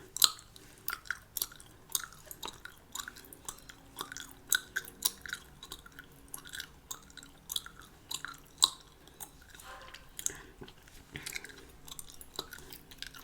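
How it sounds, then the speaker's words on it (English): Gum being chewed close up, with moist, rhythmic smacks and soft crunches repeating steadily throughout, quiet and intimate with no talking. "chewing some gum."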